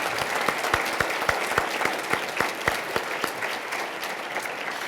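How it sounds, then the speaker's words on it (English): An award-event audience applauding, dense steady clapping from many hands at moderate distance, sustained evenly for several seconds with no talk over it. "I'd like to ask you to show one more round of applause and appreciation to Kim Calvert and her team"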